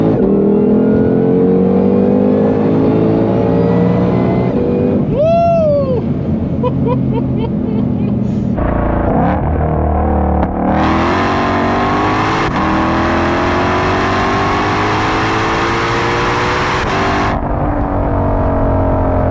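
Ford Mustang Shelby GT350R engine pulling hard in second gear, a loud rising roar that climbs steadily, briefly drops around a shift or tire spin, then howls again at high revs until easing off.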